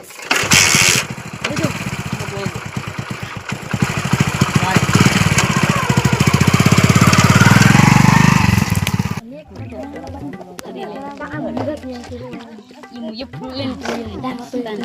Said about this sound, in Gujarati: બાઈક ચાલુ કરી